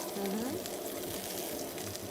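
Sage leaves fry in a non-stick frying pan, giving a steady, even sizzle that runs throughout, with faint voices in the background.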